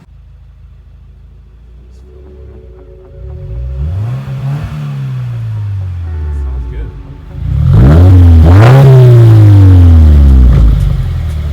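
A manual Subaru WRX accelerates through the gears while driving, the engine rising in pitch and dropping at each shift and getting louder on a hard pull, with a short bit of talk inside the car.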